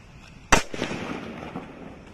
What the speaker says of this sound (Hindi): अब जलाते हैं हमारे मिर्ची बम को, देखते हैं हमारा मिर्ची बम है कैसा फटता है।